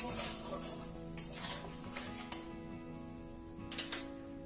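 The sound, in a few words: sautéing hilsa fish curry with cumin paste in a pan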